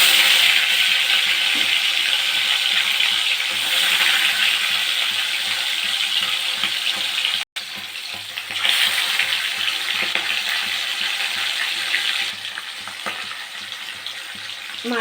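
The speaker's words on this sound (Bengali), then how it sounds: "এরপর তেলের মধ্যে মাছগুলো দিয়ে দেব" Hilsa fish fry in hot oil in a kadai, giving a loud, dense, continuous crackling sizzle that stays close and steady throughout. There is one brief cut in the middle, and a few faint utensil knocks come through.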